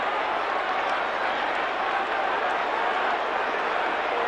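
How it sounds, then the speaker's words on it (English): Football crowd at a 1989 match hooting at a player, a broad continuous roar of many voices with scattered clapping, steady and distant-sounding. "Brereton getting the hoots of the crowd now."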